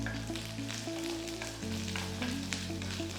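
Sliced ginger and whole garlic cloves sauté in a pan for paneer lababdar, giving a soft, steady sizzle that sits beneath prominent background music.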